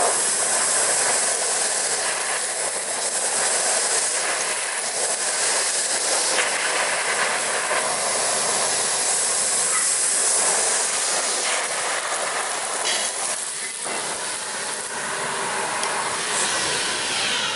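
A vacuum cleaner with a bare floor nozzle switched to area rug mode runs steadily and loudly, a continuous airy roar and hiss with slight shifts as it moves across a rug.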